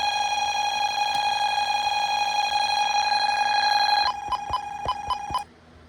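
A Bosch B9512G security panel sounds a loud, steady, high-pitched alarm tone, then a rapid series of sharp relay clicks breaks in before everything drops to near silence.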